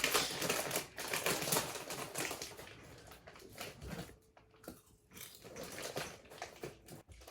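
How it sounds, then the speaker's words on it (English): Sweet and salty kettle corn crunched while eating, with dense bursts of close crackling and chewing in uneven clusters and brief quieter pauses. "I'm gonna open some sweet and salty kettle corn because I want something crunch."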